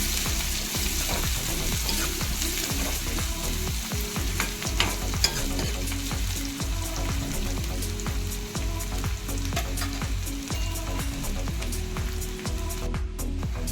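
Chopped onion sautéing in oil in a pan for green peas aamti, a steady crackling sizzle with frequent scraping stirs of a spoon, close and continuous with no talking.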